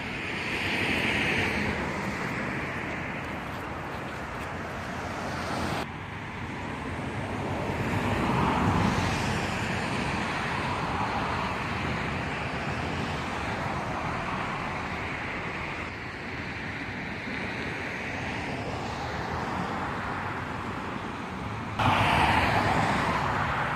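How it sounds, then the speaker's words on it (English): Steady roadside traffic noise with cars rushing past one after another beside the Elisha Winn historical landmark sign, mixed with wind buffeting the microphone; no talking. "We're on the side of the road and a lot of cars are passing by"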